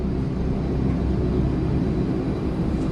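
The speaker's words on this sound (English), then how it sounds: "With the brakes on, the plane still has enough power to take off." A test jet makes its takeoff run with the wheel brakes applied, a steady heavy engine roar weighted toward deep rumble, continuous and close with no voices.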